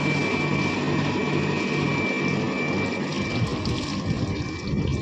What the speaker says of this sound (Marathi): मोटर आहे पंप आहे मोटर पाणी जातं